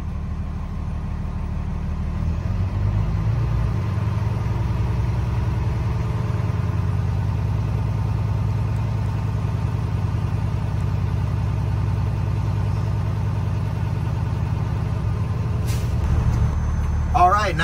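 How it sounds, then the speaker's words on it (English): A Class A truck's diesel engine idles in a steady, low, continuous rumble while air brake pressure builds toward governor cut-off, with a brief hiss near the end. "Now I'm going to go ahead and wait for the air pressure to build back up between 120 to 140."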